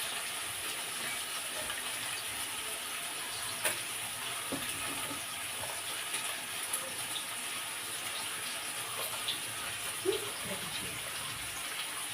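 Mutton blood being rubbed and rinsed by hand in water, with steady running and splashing water throughout and a few soft sloshes and taps standing out near the listener, no talking.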